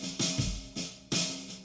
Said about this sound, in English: Kick alone sounds like that.